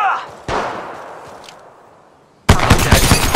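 Gunshots crack out in Apex Legends Mobile, a sharp single blast fading into a reverberant tail before a louder, sustained burst of fire erupts close and dense.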